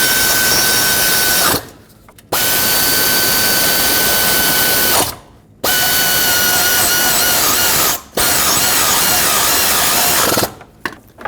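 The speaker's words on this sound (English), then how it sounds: "I'm just gonna take my air ratchet, bottom these out" Close and loud, an air ratchet runs down bracket bolts on a 4.0L V6 Ford Ranger. Long sustained whirring runs are split by brief gaps, and the last one is short and stuttering.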